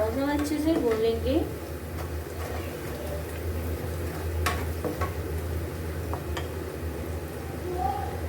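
Spice mixture with ground coriander and salt roasting in a pan for a saag, a soft steady sizzle with occasional stirring clicks, close but moderate, while someone talks over it at the start.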